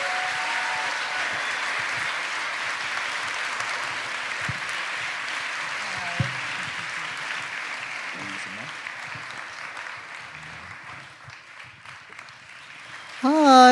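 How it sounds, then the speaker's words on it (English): Sustained audience applause greets a speaker at a Mindvalley talk, a broad steady wash of clapping from a large crowd that gradually thins, with a louder burst of noise at the very end. "So please make a big round of applause to Sri Sri Ravi Shankar."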